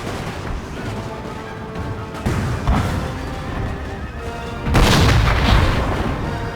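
Cannons fire canister shot in the Napoleon: Total War battle, sounding as a few deep booms with a sharp crack, one at about mid-clip and a heavier blast near the end, over a rumbling battlefield bed.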